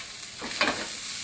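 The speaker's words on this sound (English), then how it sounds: "We got the sound of power coming from our sizzle." Quiet sizzling of bacon frying in a pan with a little butter, with a brief swell of hissing partway through as it is stirred.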